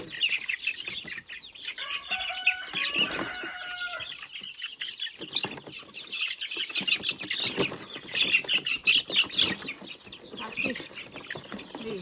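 Young chicks in a new coop cheep and cluck continuously at close range, with fluttering wing flaps and a few louder calls scattered through; a voice speaks briefly at times.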